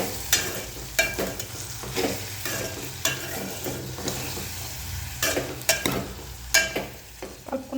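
Boiled cluster beans stirred into a milk curry in a pan: a spoon scrapes and knocks against the metal in repeated strokes over a soft simmering sizzle, close and clear with no talking.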